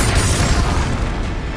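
A Bombarda explosion spell from Hogwarts Legacy goes off as a loud, deep boom with a broad rumbling burst that fades slightly over a second and a half.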